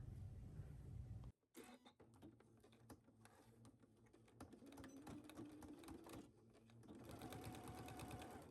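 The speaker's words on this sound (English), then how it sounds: "You are going to fold this in half, sew this at 5/8 at your machine." Sewing machine stitching a folded fabric seam at a 5/8-inch allowance. After a brief rustle and a pause, it starts and runs in a steady, close, continuous whir with small speed changes for several seconds.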